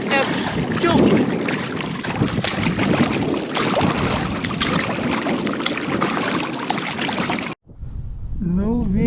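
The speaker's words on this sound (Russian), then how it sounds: "Ну, ветер приличный." Strong wind blowing across a lake in October during a boating trip, a loud steady broadband rush with water noise that drops out abruptly near the end, followed by a quieter stretch where a voice speaks.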